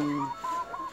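Laying hens of about 16 to 20 weeks on a small village farm in Isan, Thailand, give a few close, brief clucks and drawn-out tonal calls in about a second.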